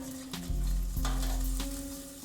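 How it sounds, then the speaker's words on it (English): Chicken wings with Old Bay seasoning are turned over in an air fryer basket. Three or four distinct clunks and scrapes sound over a steady mechanical hum, close and fairly loud. "Now what you're gonna do is turn them over. Gonna flip the side."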